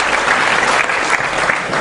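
An audience at an anti-corruption discussion claps together in a dense, steady burst of applause that fills the room from start to finish.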